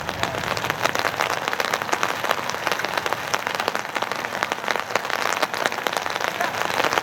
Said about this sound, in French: Nous sommes en train de jouer sous la pluie